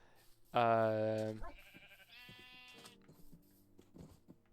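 A sheep gives one loud, wavering bleat nearby, followed by a couple of fainter bleats, with a person talking quietly afterward.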